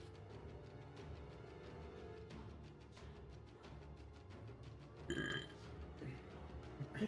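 A person burps, a short guttural belch bursting out midway through a quiet room with low background murmur and faint voices around it.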